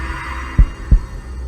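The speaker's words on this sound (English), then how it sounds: "his heart pounding in his chest" Two deep, thudding heartbeats pound in quick succession over a low hum, close and heavy, each a short muffled boom.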